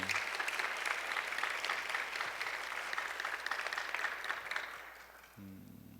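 A room full of people at a church service claps steadily for several seconds, the applause fading out near the end as a voice begins to speak.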